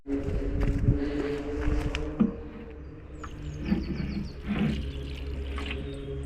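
Liquid rose feed poured onto roses in a garden: a soft, uneven splash and trickle of liquid, with a few louder gushes over a low outdoor background.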